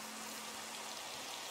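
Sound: rain falling in Minecraft modpack video game

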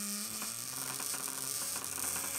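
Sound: toothbrush robot prototype moving

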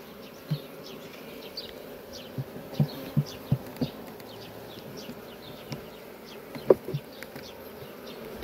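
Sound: honey bees buzzing at beehives during inspection

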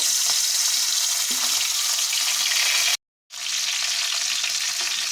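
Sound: fish heads frying in mustard oil

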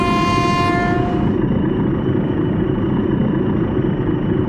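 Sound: TEM-2 shunting diesel locomotive in BeamNG video game

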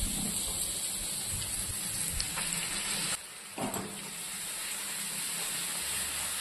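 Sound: onion paste frying in oil with garlic paste

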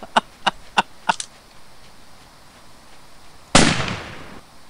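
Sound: shotgun shots at animals in a hunting video game

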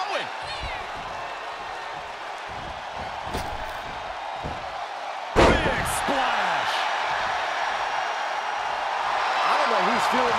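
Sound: power slam in WWE 2K23 video game

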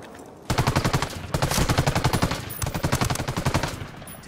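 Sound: gunfire in Ghost Recon Wildlands video game

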